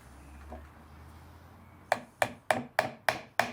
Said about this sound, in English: I really wanted to make sure I hammered it flat